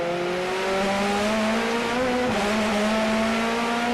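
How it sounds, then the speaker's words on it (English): On-board sound from a DTM touring race car at Zandvoort, a loud, steady engine drone rising in pitch through the gears with a brief dip at a shift, filling the whole stretch. "On board then with Tomczyk in the number 14 car"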